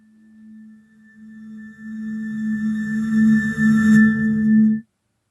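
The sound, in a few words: music with reverse reverb effect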